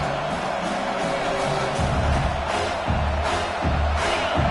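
Home crowd at a Maryland college football game roaring and cheering on third down, a loud sustained swell of voices with scattered whoops, building in waves from the stands.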